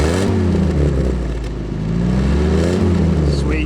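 An old barn-find WW2 Ford jeep engine, running a bit smoky, revs up and falls back twice in a loud, close, rumbling rise and dip with no talk over it.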